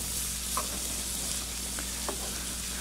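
Shrimp sizzling in a hot pan, a steady close hiss of frying with a few light taps and scrapes as the pieces are turned, brief and without voices.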